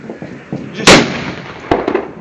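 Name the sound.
firecrackers exploding on New Year's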